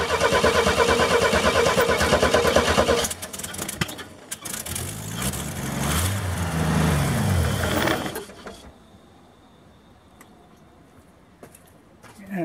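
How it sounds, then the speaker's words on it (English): A pickup truck starter motor with a new starter drive cranks in a loud whirring burst, then the engine note shifts and fades to a quieter hum, heard close up. "that is the sound of a healthy starter drive"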